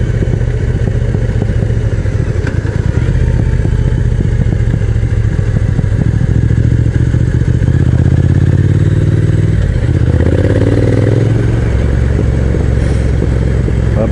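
A Triumph Speed Twin motorcycle engine roars loud and close without a break, its deep rumble rising and falling as it revs, with no voices.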